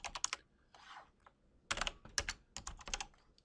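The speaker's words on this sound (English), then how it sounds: "let me just type something in" Keystrokes tapped on a computer keyboard in quick irregular bursts, close and fairly quiet, with a short pause in the middle before a denser flurry of typing; no voices.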